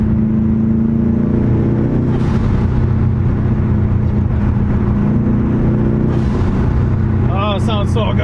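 A 2007 Subaru STI with a front-mount intercooler, its engine loud and close, rising and falling through revs, with sharp blow-off valve hisses and chirps near the end.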